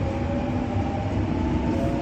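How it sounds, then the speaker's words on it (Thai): A train rumbles steadily along the rails, a constant low clatter and hum from inside a carriage. "อยู่บนรถไฟแล้วค่ะ"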